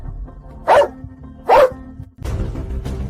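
A big yellow dog gives two sharp, loud barks about a second apart, followed by a rumbling growl that continues to the end.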